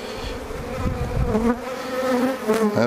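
Honeybees crowding a hive frame during a split of a colony, a close, wavering buzz that rises and falls with individual bees passing near, while a voice speaks briefly.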